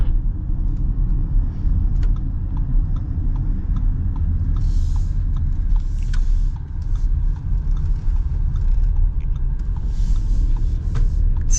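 A 2024 Audi SQ7 with 500 horsepower driving on the road, a steady low engine rumble and road noise heard from inside the cabin, moderately loud with faint ticking and rustling above it.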